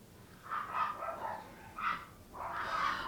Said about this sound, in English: My dogs are going to go nuts